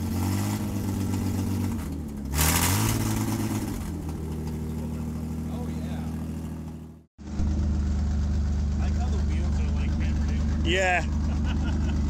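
A battery-powered pedal-box toy car runs with a steady motor whir and hum, cutting out briefly midway before starting again; a person speaks a word over it.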